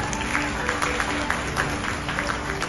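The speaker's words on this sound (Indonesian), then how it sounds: "Boleh kita beri tepuk tangan meriah kembali Bapak Ibu semuanya." An audience applauds steadily at an evening event marking a world-record percussion performance, a dense, even wash of clapping from a crowd that continues without pause.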